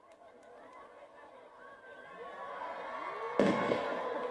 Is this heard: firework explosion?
yes